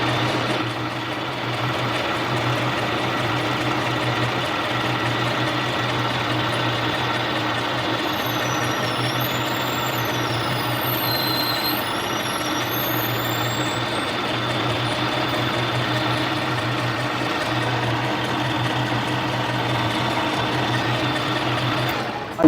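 A Harbor Freight mini lathe turns a workpiece, its motor holding a steady, even whine and hum throughout, close and continuous with no talking.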